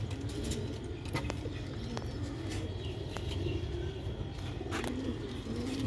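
Old Sialkoti Batere pigeons in a loft, with low rolling coos, occasional wing flaps and light clatters from close by, steady and moderate throughout.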